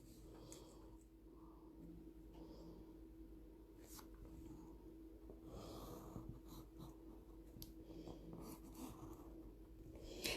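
A pencil marks light fabric with faint, soft scratching strokes, close and quiet, alongside gentle breathing.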